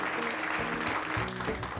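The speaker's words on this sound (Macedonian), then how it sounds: "Јак дрче аплауз за дечките." A studio audience claps for two young guests, a dense steady patter of applause over a low musical hum, moderately loud and continuous.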